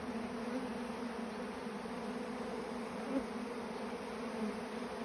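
Honey bees buzz around an open hive, a soft, steady, continuous drone at low level with no break and no speech.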